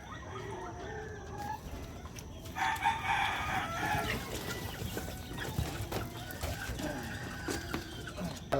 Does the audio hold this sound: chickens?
yes